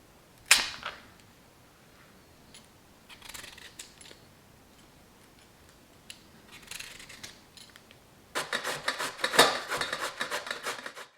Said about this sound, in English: To prepare the turnip, peel and grate it.